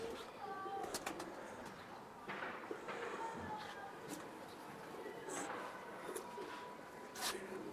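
Soft pigeon coos repeat through the clip alongside wing flutters and faint background voices, steady and fairly quiet, in a pigeon loft holding Pakistani-breed pigeons.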